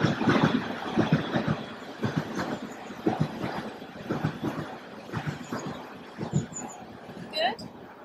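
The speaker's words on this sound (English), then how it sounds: "So many trains." A train rumbles past nearby with rhythmic clacking of wheels on rails and a faint squeal, while a voice talks over it during an indoor Pilates workout.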